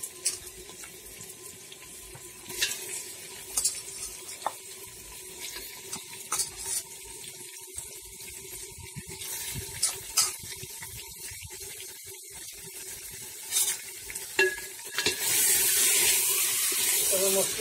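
Mutton cooks in masala and oil in a pan for Baripada-style mutton, with intermittent scraping and stirring over a running water-like hiss that swells near the end, under faint background voices.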